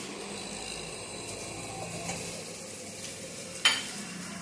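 Cashews tossed into a hot pan fry with a steady, soft sizzle and crackle, with a brief clatter of a utensil near the end; no one speaks.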